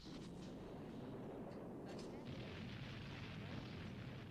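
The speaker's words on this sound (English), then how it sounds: "you hear those familiar sound effects of the explosions" Rumbling explosion effects from the film Aliens form a dense, continuous roar of blasts, with a voice faintly present beneath them.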